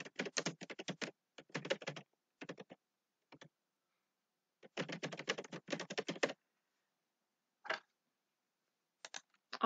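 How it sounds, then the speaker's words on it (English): Rapid bursts of keystrokes on a computer keyboard as a graph title is typed during a SageModeler screen session, clustered runs of clicks separated by short pauses, close and clear with no talking. "So I'll type that at the top as our title."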